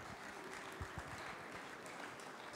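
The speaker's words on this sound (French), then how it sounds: "on peut vous applaudir" A cooking-show audience at Cuisines en Scènes applauds the cheese makers, a faint, distant patter of steady clapping with a few low thumps.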